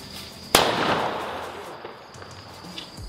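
A Diwali firecracker goes off with one sharp, loud bang near the start, followed by a long crackling, hissing decay fading over a few seconds outdoors.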